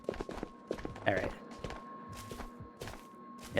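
Quiet footsteps from a bot in the video game Ghosts of Tabor, a scatter of soft irregular steps over a faint steady hum.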